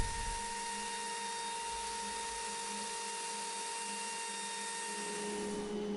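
A power router with a bearing bit cutting a 3/16 inch rabbet in a wood block held in a jig, a steady high whine that runs without letup and sounds close and moderately loud.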